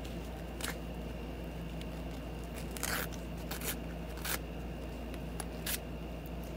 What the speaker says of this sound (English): I'm just gonna slice in there with my scissors a little bit just to give me something to grab